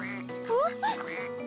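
A voice imitates a duck with two short, nasal quacks, close and clear, over a soft sustained tone.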